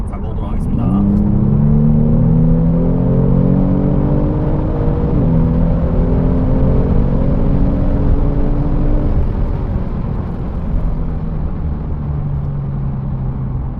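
A Kia Stinger 3.3T in sport mode accelerates hard. The engine note climbs steadily and loudly, drops briefly at a gear change partway through, then keeps pulling in a continuous rising drone.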